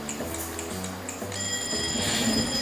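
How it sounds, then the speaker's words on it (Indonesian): A mobile phone alarm rings on its own with a bright, repeating electronic tone pattern that shifts and layers partway through, steady and fairly loud with no voices. "Setiap pagi mungkin kita bangun karena dengar suara alarm di HP kita."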